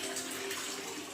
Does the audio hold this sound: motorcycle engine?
no